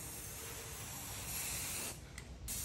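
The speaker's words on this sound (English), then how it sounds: "Anywhere you see white, that's where you're gonna wanna spray." A continuous close hiss of a spray paint can spraying onto a shirt, with brief pauses near the end before spraying resumes.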